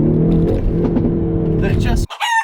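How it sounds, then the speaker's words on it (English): Two-liter turbocharged engine of a Hyundai Veloster N hot hatch pulling hard under acceleration, a loud, steady low drone from inside the car that cuts off abruptly near the end, with a voice talking over it. "it's a small hot hatch with a 2-liter turbocharged motor"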